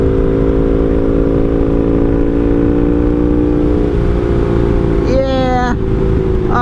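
1982 Honda Magna cruiser motorcycle engine while riding, a steady loud droning hum with wind noise throughout, pitch dropping slightly before a brief rising rev, with someone talking over it.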